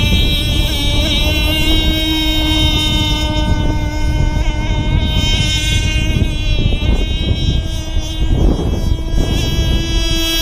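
A small Micro Burst motorboat runs up on plane, its engine droning loud and steady at close range with wind and water rush throughout.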